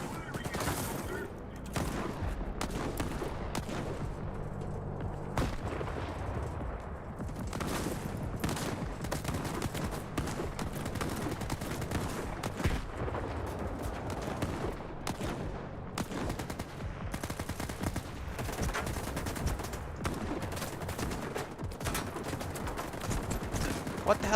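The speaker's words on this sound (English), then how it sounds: "What the hell is shooting me?" Dense gunfire crackles through a firefight in S.T.A.L.K.E.R. 2, with bursts of automatic fire and scattered single shots repeating throughout, fairly loud and continuous with some quieter gaps.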